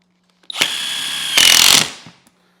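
A power drill whirs in two bursts, the second louder and higher as it drives a screw into a 2014 Harley-Davidson Street Glide, then winds down to silence.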